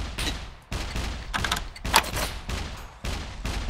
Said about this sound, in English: Okay, I'm glad you're shooting at me.